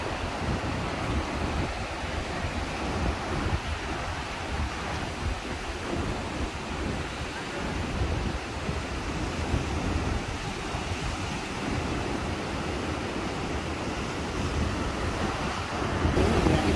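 Rough ocean surf pounds beneath the Okaloosa Island pier in a continuous heavy roar, mixed with gusting wind buffeting the microphone, with no voices.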